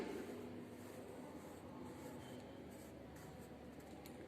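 Pen or pencil scratching across paper as a dictation word is written out, a soft continuous rubbing that runs steadily at close range with no voices.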